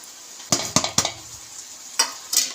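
Salt, coconut, tomato and chili being mixed into raw mutton, heard as about five sharp spoon-on-pot clinks and scrapes, three in quick succession followed by two more after a short pause, with a soft wet squelch.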